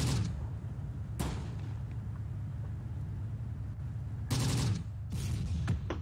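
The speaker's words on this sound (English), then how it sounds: "both of them shooting at the same tank" A few sharp cracks of gunfire at a tank in Close Combat: The Bloody First stand out over a steady low engine rumble, with a couple of shots close together near the end.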